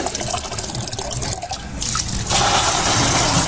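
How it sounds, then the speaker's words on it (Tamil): Water trickles and drips steadily from holes in a leaking main water supply pipe, a continuous close splashing patter that grows louder and fuller toward the end. "மெயின் குழாய்களில் உள்ள ஓட்டை உடைசல்களில் கசியும் நீரை பிடித்து தங்களது தண்ணீர் தேவையை பூர்த்தி செய்து வருவதாக"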